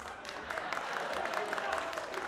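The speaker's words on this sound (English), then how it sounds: "Oh, sorry, I shouldn't be clapping." At a live pro wrestling show, a commentator claps his hands in steady, fairly quick claps over a constant background of crowd noise and talk.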